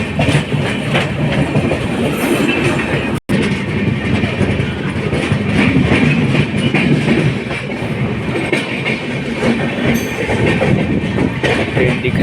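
Train running on rails on an Indian rail line, loud and close, with steady rumbling and rhythmic clickety-clack of wheels throughout, no voices.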